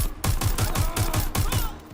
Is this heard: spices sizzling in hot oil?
no